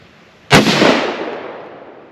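A single sharp rifle shot fired at a target cracks loudly and close, then its echo rolls away and fades over about a second and a half.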